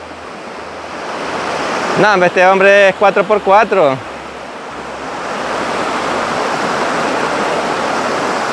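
Waterfall on a cascade route in Tejutepeque, Cabañas, El Salvador: a steady broad rush of falling water fills the whole clip, with someone talking loudly over it for a couple of seconds.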